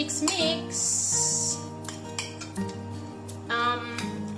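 Cooked feta pasta being mixed in a pot, with repeated metallic clinks and scrapes of a utensil against the pot and soft stirring, steady and close, with some background noise.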